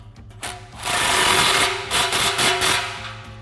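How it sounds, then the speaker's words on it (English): Exhaust clamp on a Challenger cat-back system being tightened with a 15mm socket ratchet, giving a loud, steady run of rapid mechanical clicking and grinding that lasts about three seconds after a brief quiet start. "come back to our clamp, tighten that up with a 15mm socket."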